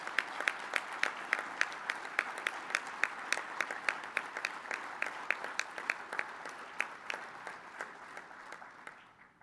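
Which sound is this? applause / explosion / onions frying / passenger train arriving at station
applause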